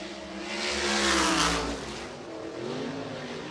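A USAC sprint car revs hard on a qualifying lap at Ocala Speedway, its loud engine note rising and sweeping past close by before fading into a steady drone.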